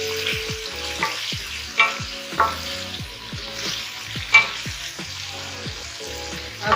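Onions and tomatoes frying for mutton masala gravy, with a constant sizzle and intermittent spatula scrapes against the pan, heard up close under faint background tones, a single brief spoken word.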